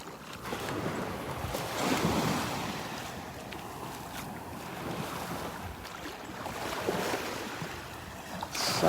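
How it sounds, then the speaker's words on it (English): Ocean surf washes onto the beach at Delnor-Wiggins on a morning walk, a steady close roar of waves mixed with wind buffeting the microphone throughout. "Beautiful out here, just listening to the waves and the birds."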